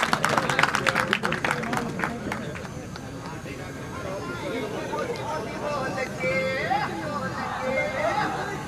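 A crowd at a BJP political gathering breaks into loud applause, dense clapping strongest at the start and thinning into crowd murmur and chatter toward the end.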